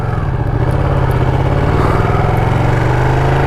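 A Ducati Panigale 959 motorcycle ridden along a village road in Tamil Nadu, its engine a steady, loud, close droning rumble with no break and no voices.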